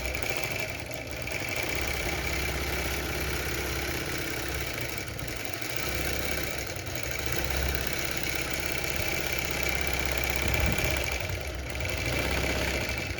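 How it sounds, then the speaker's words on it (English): Longarm quilting machine stitching across a quilt, a steady mechanical hum with a fast repetitive clatter that runs continuously at moderate loudness, with no talking. "just watching the machine quilting isn't necessarily something you want to spend an hour doing"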